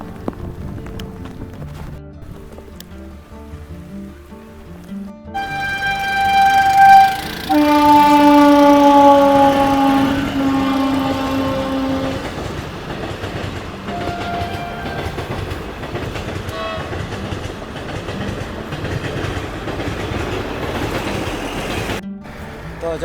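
A train rolls past a railway crossing during rain, sounding a long multi-tone horn before its wagons rumble and clack steadily by, loud and close, with rain hiss underneath and no talking.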